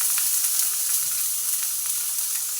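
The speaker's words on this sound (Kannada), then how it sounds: "ಈರುಳ್ಳಿ ಹಸಿ ಸ್ಮೆಲ್ ಹೋಗೋವರೆಗೂ ಚೆನ್ನಾಗಿ ಬಾಡಿಸ್ಕೊಳ್ಳಿ." Chopped onions sizzle steadily in hot oil in a pan while frying for aloo bonda, a close, even crackle with faint stirring scrapes and no talk.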